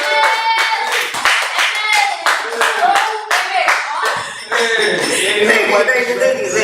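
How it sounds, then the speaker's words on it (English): A small audience claps along at a spoken-word performance, a run of sharp, fairly close hand claps in a loose regular rhythm, thinning into scattered claps with a speaking voice toward the end. "Can you guys clap me for"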